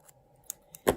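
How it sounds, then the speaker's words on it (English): Scissors trim sewing threads close to the fabric after a stay stitch, giving a couple of faint quick snips and then one louder, sharper cut at the end in a quiet room. "trim my threads closely"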